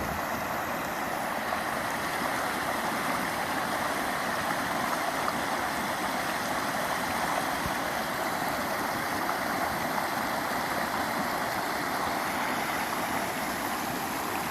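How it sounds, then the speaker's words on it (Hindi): A small waterfall pours into a mountain stream, giving a steady, broad rushing roar that stays close and constant throughout, with no voices. "यहाँ जिस जगह पानी गिरता है यहाँ डेप्थ ज़्यादा होती है"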